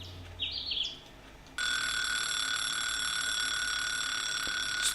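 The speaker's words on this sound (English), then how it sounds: "I stretched out my arm to grab the alarm clock." An alarm clock in the visual novel D.C. Da Capo: after a few faint chirps, a loud, continuous electronic ringing starts abruptly and keeps going steadily and close.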